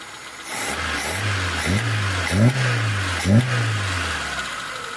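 A VAZ 1.6-litre engine fitted with a reworked Solex carburetor runs close by with a steady idle hum, then takes three quick throttle blips that rise and fall in pitch, loud and alone.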